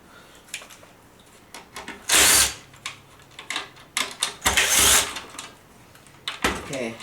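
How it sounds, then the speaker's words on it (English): A power screwdriver backing screws out of an Airfibre 5 radio housing, two longer whirring bursts separated by clicks, taps and handling rattles, close and fairly loud, no talking. "Let's take off a couple more screws."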